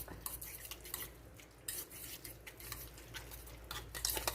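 Beaten egg being stirred into lasagna soup with a utensil, making quiet repeated clinks and scrapes against the pot in an irregular rhythm over a faint background hum.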